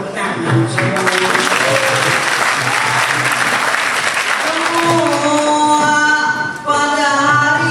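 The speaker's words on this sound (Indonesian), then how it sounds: "supaya meriah tepuk tangan semua" Enthusiastic audience applause rises at a Banjar Mamanda theatre performance, dense and loud, with a crowd murmur and speaking voices running under the clapping.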